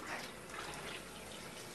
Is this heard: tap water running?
yes